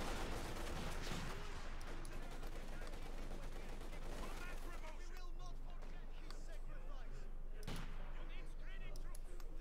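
Light machine gun fire in Company of Heroes 2, a DP light machine gun used by German Sturmpioneer infantry, rattles in sustained bursts amid a dense, continuous battle mix of other gunfire and explosions, with a voice talking over it.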